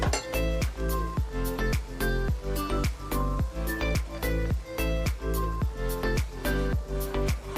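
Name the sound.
stirring Maggi noodles with cheese slice in a pan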